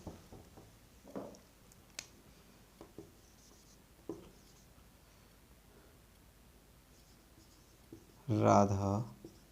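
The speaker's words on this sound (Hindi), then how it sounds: "आइए कुछ एग्जांपल और लिखते हैं।" Pen writing examples by hand on paper, a few brief faint scratches and taps spread out with pauses, followed by a louder burst near the end; otherwise quiet.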